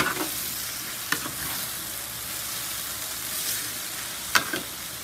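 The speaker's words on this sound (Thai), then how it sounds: "แล้วก็ผัดต่อไปเรื่อยๆค่ะ" Crispy fried tilapia and celery being stir-fried in a pan, a steady sizzle with occasional scrape and clack of a utensil against the pan, close and continuous.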